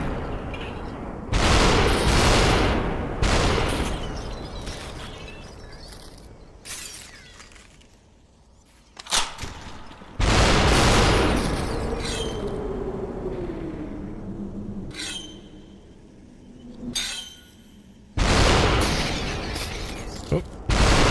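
Loud gunshots and sharp shattering bursts ring out in SUPERHOT VR, arriving in separate heavy volleys several seconds apart, with a voice talking in the gaps.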